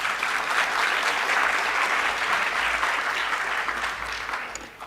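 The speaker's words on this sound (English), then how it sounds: "I think that the UJ choir deserves another round of applause" Sustained applause from a ceremony audience honouring the UJ choir at a university degree conferral, a broad, even roar of many hands at moderate loudness, tapering slightly at the end.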